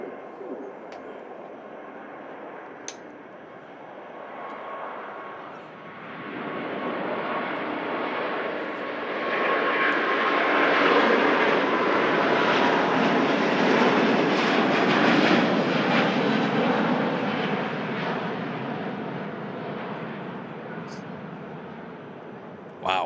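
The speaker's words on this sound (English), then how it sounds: "Virgin Atlantic Airbus A350 next out" A Virgin Atlantic Airbus A350 taking off at Manchester Airport, its broad engine roar building steadily to a loud, sustained peak and then easing slightly as it climbs away.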